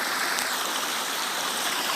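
A mountain stream at Kongamala tumbling downhill, a steady full-bodied rush of flowing water, close and continuous with no voices.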